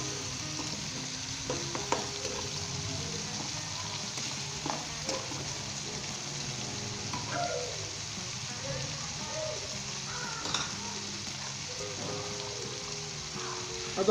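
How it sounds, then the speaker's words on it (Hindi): Egg, peas and carrot mixture sautéing in a pan for a Bihari bhujia, a steady close sizzle of frying with occasional scrapes and stirring clicks throughout. "जस्ट हमने इसे मिक्स करना है और 1 मिनट के लिए हमने इसे सौते करना है इस तरह"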